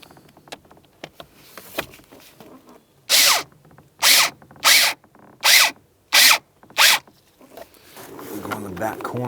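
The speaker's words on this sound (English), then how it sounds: "Let's go ahead and start putting our screws back in." A power drill drives screws back into a 2004-2012 Chevrolet Colorado during blower motor replacement, six loud, evenly spaced whirring bursts close by, with light handling clatter and rustling before and after.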